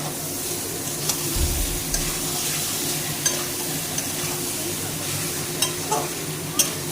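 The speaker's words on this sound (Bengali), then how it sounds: "এবার আমি সোয়াবিনের বড়িগুলো দিয়ে দিচ্ছি। এটা দিয়ে ভালো করে কষাবো।" Soybean chunks are stirred and fried in oil with spice masala, a continuous sizzle with scraping spoon strokes and occasional light clinks against the pot.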